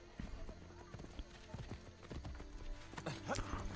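Horse hooves clip-clop in the game Assassin's Creed Brotherhood, quiet, close steps in an uneven trotting rhythm over a low ambient bed, growing busier toward the end.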